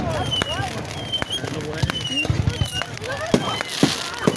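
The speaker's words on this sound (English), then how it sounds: "Too many fireworks! They're all over the place!" Fireworks going off nearby, scattered sharp pops and crackles at irregular intervals while people talk and shout over them.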